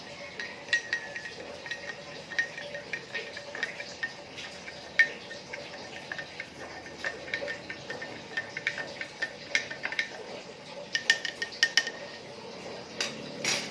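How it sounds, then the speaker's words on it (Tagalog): Spoon clinking against a glass while salt is stirred into water, a quick irregular run of light metallic ticks and taps throughout, close and fairly quiet. "stir until the salt dissolves"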